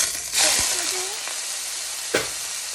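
Shrimp sizzles in olive oil in a stovetop pan, a loud broad hiss that flares at the start and again near the end, with a brief voice-like sound in between.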